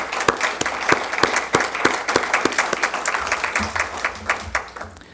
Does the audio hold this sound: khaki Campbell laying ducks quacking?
no